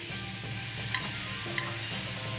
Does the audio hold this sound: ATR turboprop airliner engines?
no